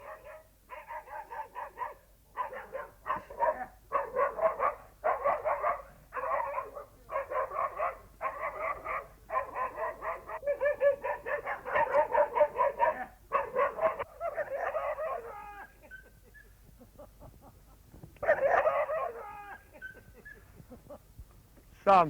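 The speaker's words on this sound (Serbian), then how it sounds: "Neko počne da laje, neko zavija" Puppies living rough after an earthquake bark in rapid repeated bursts, with yips and whimpering howls, close and loud, pausing briefly before a final burst of barks.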